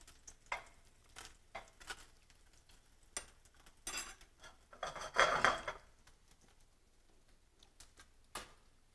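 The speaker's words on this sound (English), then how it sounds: "add my shallot. Let a little bit saute the shallot" Shallot and bacon sautéing in a pan, a soft sizzle with scraping and stirring clicks from a utensil, including one brief louder burst of stirring, quiet and close with no talking.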